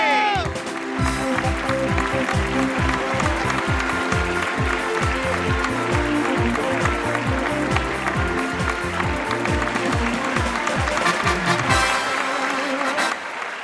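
A studio audience applauds steadily and loudly to welcome actress Zhalay Sarhadi onto a Pakistani television show, while music plays underneath the clapping.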